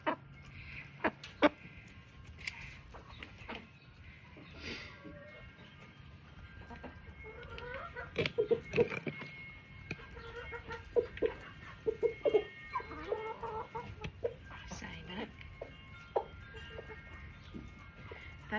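Chickens and a rooster cluck and chatter in a backyard coop, a steady scatter of near and far calls with occasional sharper squawks and a faint voice now and then.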